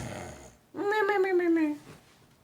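A voice imitating a bear snoring: one drawn-out, rumbling nasal snore, loud and close, set apart from the surrounding talk.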